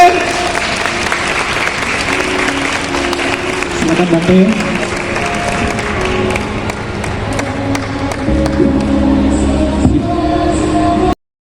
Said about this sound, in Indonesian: Tepuk tangan sekali lagi buat Bante.